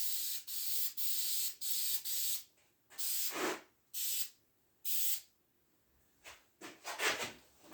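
Bed liner coating sprayed onto a custom gate, heard as repeated close, loud hissing bursts about a second long separated by short pauses, ending in quicker, irregular spurts.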